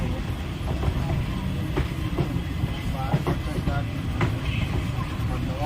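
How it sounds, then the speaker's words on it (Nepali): A passenger train in India rolls over the rails while crossing points to change tracks, a steady low rumble with repeated rhythmic clacks of wheels over rail joints, heard from on board. "ट्रेनको पट्टी त्यसरी चेन्ज हुँदो रहेछ।"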